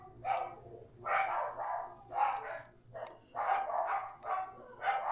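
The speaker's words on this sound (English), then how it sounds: "I'm sure what the dogs are barking at." Dogs barking outdoors in a string of fairly close, loud, rhythmic bursts with short pauses between them, some barks overlapping.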